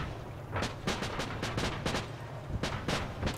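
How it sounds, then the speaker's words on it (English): Bombs burst around a tank in the video game Armored Battle Crew, a rapid string of sharp explosive cracks in irregular bursts over a rumbling low background, fairly quiet overall. "That's a lot of bombs flying my direction."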